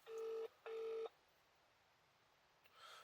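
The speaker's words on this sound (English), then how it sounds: "Let's phone them and see what it was." A phone keypad sends out two steady dialing tones in quick succession, followed by a short faint tone, with quiet room hush between.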